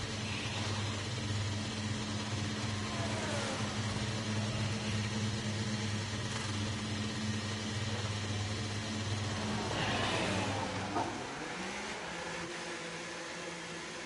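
A Formula 1 car in a video game heading out onto the Budapest circuit, its engine a steady mechanical drone with a faint rise in pitch near the end, no voices over it.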